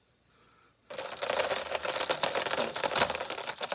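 Tangled squarebill crankbait fishing lures shaken together, producing a dense, continuous clattering rattle of hard plastic and hooks that starts abruptly after a brief quiet moment and stays loud.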